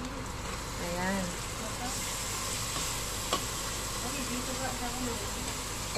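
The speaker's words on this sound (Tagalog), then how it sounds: "igisa na natin yung pork natin" Pork sautéing in a pan for paella valenciana, a continuous sizzle and frying hiss with stirring, while people talk over it.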